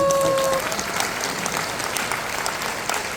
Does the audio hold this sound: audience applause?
yes